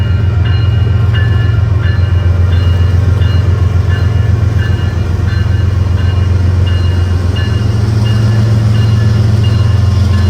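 A freight train pulls away after a stop at red-over-red signals, its heavy, steady diesel rumble loud and close, with faint metallic ringing and rattling of cars throughout.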